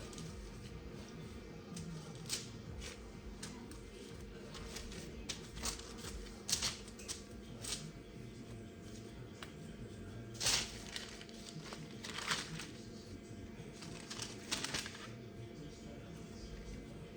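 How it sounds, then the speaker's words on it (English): Sourdough bread dough being kneaded and folded by floured hands on a counter: soft, irregular slaps and sticky pats repeat close by over a low background hum, with occasional sharper presses. "Just knead it a little bit, fold it over on itself."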